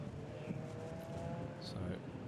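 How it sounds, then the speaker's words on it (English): A Formula Ford race car engine drones steadily at Croft circuit during a national championship race, a constant mid-distance roar under a commentator's voice. "the car's weaving from side to side to keep those tyres in good temperature"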